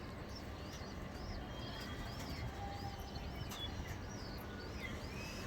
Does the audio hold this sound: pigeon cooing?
yes